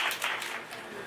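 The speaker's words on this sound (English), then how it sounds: "Please give him a round of applause." Audience applause at a live reading in a bakery, a brief burst of clapping that swells and then settles to a steady patter over about a second.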